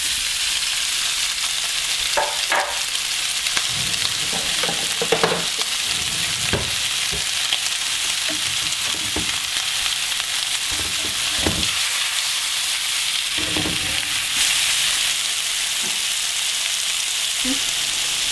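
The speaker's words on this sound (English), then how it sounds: "So while the sausage is busy browning," Sausage browns in olive oil in a preheated pan, giving off a loud, continuous frying sizzle with irregular knocks and scrapes from stirring, and no one speaking.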